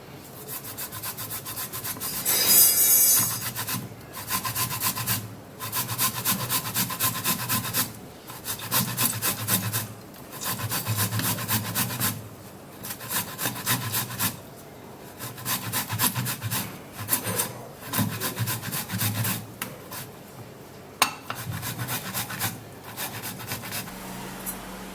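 A tomato rubbed back and forth across a grater, giving a steady run of wet rasping strokes in repeated bursts with brief pauses, close and fairly loud with no talking.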